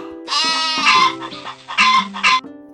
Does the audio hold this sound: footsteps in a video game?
no